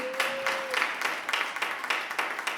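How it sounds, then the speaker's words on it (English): Applause from a community forum audience at an evening meeting in a Harlem building, a steady patter of many hands clapping at moderate distance for a few seconds, with a faint brief tone near the start. "Clap your hands up for being present."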